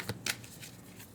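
Tarot cards are riffled in a quick shuffle, with a soft flutter followed by a sharper burst of papery card slaps, fairly close and fading into quiet.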